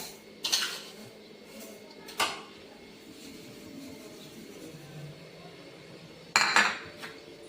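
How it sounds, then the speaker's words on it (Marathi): Metal spoon clinks and scrapes against a pan as sugar is stirred into grated carrot for carrot milk: three distinct clattering bursts, close and fairly loud, separated by quieter stretches of low kitchen background. "आणि आता आपण ही साखर या खिसामध्ये मिक्स होईपर्यंत हे चांगलं परतून घ्यायचं आहे"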